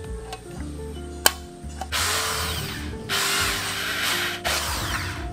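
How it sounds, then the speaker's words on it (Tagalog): A power drill bores holes through a cover on a Kawasaki Barako 175 scrambler motorcycle build, with steady whirring in several bursts, a sharp click near the start and mechanical ratcheting between runs. "ngayon bubutasan ko na itong cover para mailagay ko ng maayos itong mga bracket na to"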